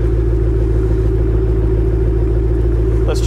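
Exhaust of a 2008 Ford Mustang GT500 with about 7,000 miles, idling in a steady, mellow, deep rumble close by, even and unbroken throughout, with a brief higher squeak near the end.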